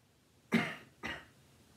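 Two quick coughs follow each other about half a second apart, the first stronger and the second softer, faint and close in a quiet room.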